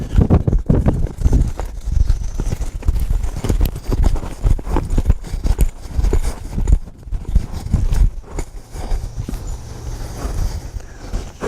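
A cutting horse's hooves thud and shuffle steadily on the ground nearby, a dense run of irregular steps with a faint bird now and then.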